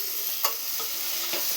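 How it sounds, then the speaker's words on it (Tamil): Onions and tomatoes being sautéed in a pan for mutton kulambu, a soft sizzle with a few scraping stirs of the spoon, close and fairly quiet, with no talking. "தக்காளி போட்டு வதக்கிடலாங்க"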